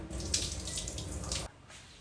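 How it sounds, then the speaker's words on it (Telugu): Water drains off a plate of washed vegetables in a kitchen, running and splashing softly for over a second before stopping, with faint drips after. "అన్నీ మంచిగా కడిగాక వాటర్ అంతా వంపేసి"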